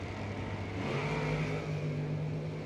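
A Chevrolet Vega drag car pulls a wheelstand off the line, its engine a loud, steady roar with a strong low drone, running without a break and without any talk over it.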